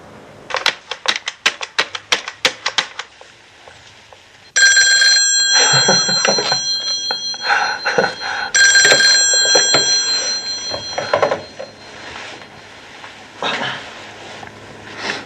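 An old-fashioned telephone bell rings in loud repeated bursts, first a rapid clattering trill, then long sustained rings separated by short pauses, with no talk over it.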